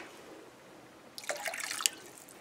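Wine pours briefly into a measuring cup in a kitchen, a quiet, close trickle and splash lasting under a second after near silence.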